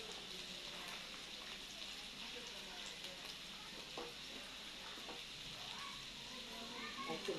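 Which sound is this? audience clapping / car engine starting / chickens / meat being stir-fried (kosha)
meat being stir-fried (kosha)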